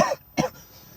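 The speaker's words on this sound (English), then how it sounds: "I'm coughing." Two short, sharp coughs in quick succession, close to the microphone, followed by quiet.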